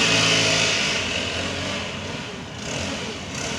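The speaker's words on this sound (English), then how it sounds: "Oh, it's a leaf blower." A leaf blower runs nearby with a steady, loud broadband whine and roar that holds throughout, swelling slightly near the start and easing a little toward the end.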